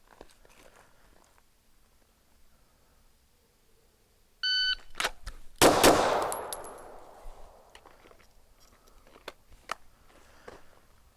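At an outdoor range, a shot timer beeps, then two pistol shots crack out in quick succession, loud and close, with a fading echo after them.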